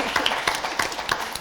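A studio audience on a French talk show applauds a guest, a short burst of close, dense clapping with a few sharper individual claps standing out, filling the whole moment without speech.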